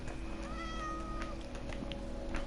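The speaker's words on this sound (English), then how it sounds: "Appears to be a cat nearby." Cat meowing inside a Minecraft world, a few short rising mews heard nearby over steady game background noise, no talking.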